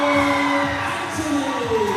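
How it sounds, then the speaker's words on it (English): A large crowd at the ISSF Junior World Cup 10m air pistol men's final in New Delhi roars and cheers continuously, a loud, dense wash of voices with whoops rising through it. "the crowd are on their feet here in New Delhi, and rightly so. Just listen to that applause for Jonathan Gavin Anthony, 16 years old."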